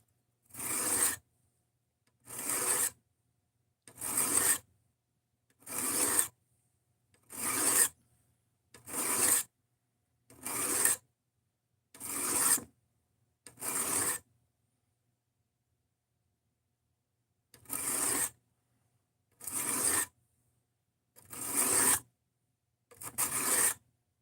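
A knife being sharpened on a sharpening stone in long rasping strokes, about nine evenly spaced passes, a pause, then four more, close and clear with no talking.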